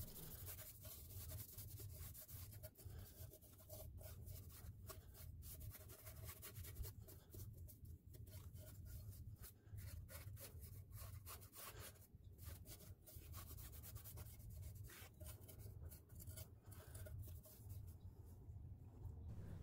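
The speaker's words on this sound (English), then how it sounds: "to get into those crevices, and also scuff the valve cover in the process, we'll use a piece of gray Scotch-Brite pad" A gray Scotch-Brite pad scuffs a car valve cover for about twenty seconds, making a steady, close abrasive rubbing over a low background hum, with no talking.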